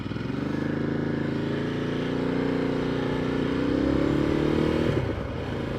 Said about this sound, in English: the growl of that exhaust